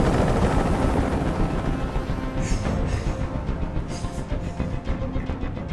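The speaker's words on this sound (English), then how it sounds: "I can't stand that noise anymore. Tell that helicopter to get out of here." Loud, steady chopping whir of a helicopter hovering nearby in the video game Detroit: Become Human, pulsing rotor beats filling the air without any talking.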